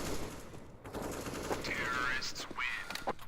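Galil rifle fire in a competitive first-person shooter match rattles in quick automatic bursts under a quiet game mix, with a commentator speaking over it.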